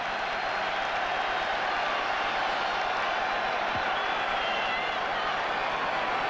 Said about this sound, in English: The home crowd delighted.